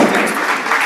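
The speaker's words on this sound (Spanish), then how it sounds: "un fuerte aplauso para Juan Oliva" An audience at a tech talk on SIP security applauds as the speaker is introduced, giving a steady, dense burst of clapping.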